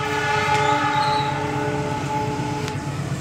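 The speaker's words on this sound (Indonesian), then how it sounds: "Kereta api Batubara melintas langsung." A heavy coal freight train rolls by toward Nambo station in Indonesia with a low, steady rumble and grinding hum, continuous and fairly close throughout.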